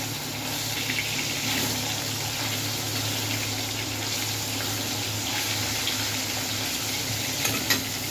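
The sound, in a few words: stirring nigella seeds frying in a pan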